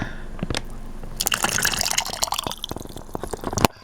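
Marinade is poured into a plastic bag of cut rabbit pieces, with a few early drips, then a close, gurgling splash of liquid filling the bag with crinkly plastic rustles, ending abruptly.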